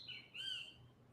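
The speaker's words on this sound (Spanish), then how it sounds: "hay unos pajaritos por aquí cantando" Small birds singing outdoors: a few high, thin chirps and a short warbling call, faint and distant against a quiet background.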